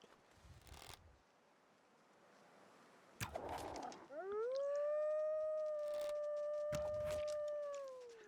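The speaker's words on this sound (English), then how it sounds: "That's a timber wolf right there." A timber wolf in the survival game The Long Dark gives one long, rising then steady howl that carries clearly over quiet wilderness ambience, preceded by a few brief thuds and rustles.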